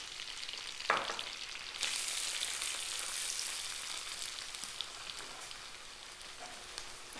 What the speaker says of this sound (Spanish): la vamos a dejar que se sofríe, que se cristalice un poco